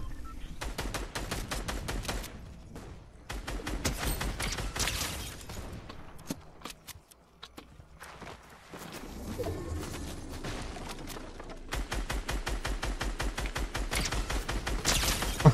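Enemies shooting in the Fortnite video game, with repeated bursts of rapid sharp gunfire that start and stop in clusters and a brief lull in the middle.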